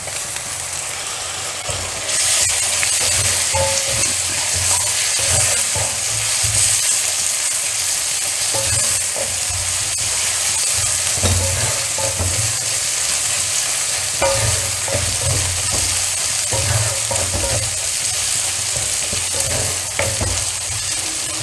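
Chopped tomato and onion frying in a pan while being stirred, a constant close sizzle broken by repeated scraping and clacking strokes of the spoon.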